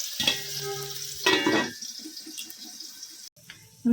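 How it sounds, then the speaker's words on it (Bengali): Small potato pieces fry in oil in a covered pan, giving a sizzle with a few clinks and knocks, then a quieter crackle. "আলুটাকে ঢাকা দিয়ে ভেজে নেব, তাড়াতাড়ি সেদ্ধ হয়ে যাবে।"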